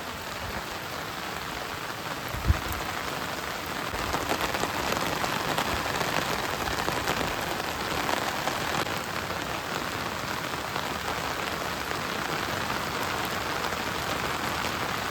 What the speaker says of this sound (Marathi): मला वाटत नाही आज पाऊस हा जाईल म्हणून, कारण भरपूरच पाऊस आहे